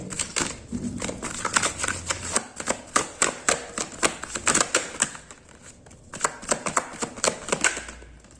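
Tarot cards shuffle and slap together close by, a quick run of crisp papery snaps and riffles with a short pause partway through, no talk.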